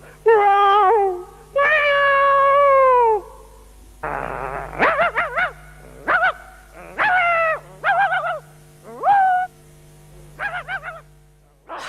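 A man on Vietnamese TV imitates a cat, producing a string of drawn-out, wavering meows one after another at close range, with a steady hum underneath.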